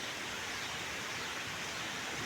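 A village river pours over an old dam in a broad, steady roar of rushing water, loud and unbroken from start to end, with no voices heard.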